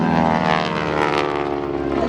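Radial-engine supercharged propeller warbird flying at an airshow, a loud continuous throbbing engine roar with rich low harmonics, close and steady.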